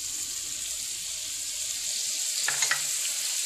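Grated tomato goes into hot oil with turkey liver, a sharp sizzling burst rising over the steady frying hiss partway through and then settling into a constant crackle.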